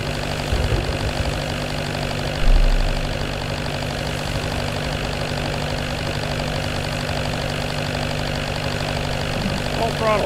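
A boat's engine runs at full throttle on the Barents Sea, a loud steady drone with a constant low hum and a brief bump, continuing unbroken throughout.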